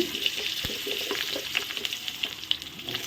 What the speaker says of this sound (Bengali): এখন আমি আলুগুলো ভেজে নেই আস্তে আস্তে করে আলুগুলো দিয়ে দিই